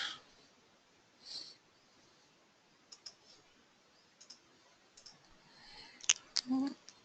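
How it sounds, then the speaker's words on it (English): A computer mouse button clicked during a JavaScript coding demonstration, faint sharp clicks scattered across several seconds with a quick pair near the end, heard close and quiet, with no talk. "When I double click on this button"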